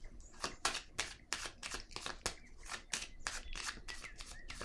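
Tarot cards being handled and shuffled during a reading: a quiet, close series of rapid papery riffles and flicks in an irregular rhythm over a soft background hiss.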